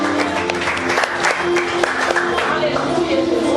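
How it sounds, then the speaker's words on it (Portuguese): Church congregation applauding during a sermon, a steady wash of many hands clapping together, close and full, with voices calling out over it. "aplauda o nosso Senhor Jesus, dando glória a Deus e aleluias"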